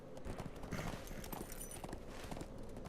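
Horse hooves clip-clop at a walking pace in the Lord of the Rings Online video game, a steady run of close, even footfalls over a constant ambient background.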